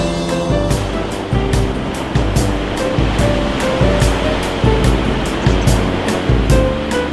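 Loud, rough sea waves on the coast near Uljin during a storm warning, a continuous roar of surf with rhythmic surges breaking throughout, no voices.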